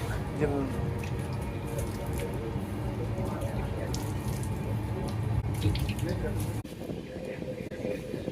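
Tap water running steadily into a sink while someone washes their face, a continuous close rushing splash with a voice talking over it before it cuts off near the end.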